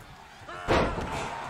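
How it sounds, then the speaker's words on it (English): A wrestler is slammed down onto the ring mat in the WWE 2K22 video game, giving one sudden heavy thud followed by a brief rumbling tail over faint background noise. "Roman Reigns slams Dawkins down to the mat."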